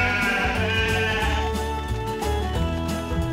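Sheep bleat repeatedly in a PAW Patrol Academy video game, cartoon-style calls layered over steady game music, fairly loud and close with no talking.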